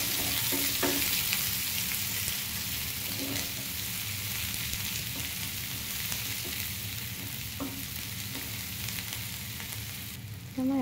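Roughly chopped onions fry and sizzle steadily in a pan while cooking arhar dal, with a constant close hiss broken by occasional clinks and scrapes of stirring.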